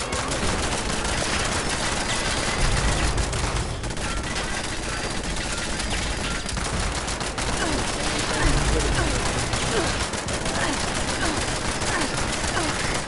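Dense continuous gunfire from a minigun with launcher blasts in a PS4 shooter game, a loud unbroken barrage with faint talk mixed in.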